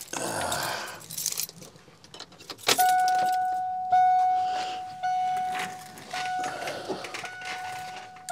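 Keys jangle inside a bus during window regulator work, a metallic rattling burst at first, followed by clinks and sustained ringing electronic chime tones with pauses, close by.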